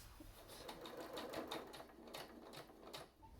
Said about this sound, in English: And after we will sew in for